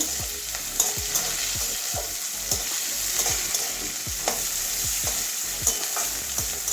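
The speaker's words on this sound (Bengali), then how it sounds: "এবারে সবগুলো একসঙ্গে ভেজে নিচ্ছি" Onion and garlic frying in a pan while being stirred, a continuous sizzle punctuated by regular scraping and tapping strokes of the spatula, close and clear with no voices.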